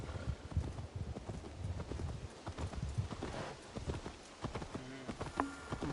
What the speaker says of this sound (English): de a dos corre re lento el caballo este de mierda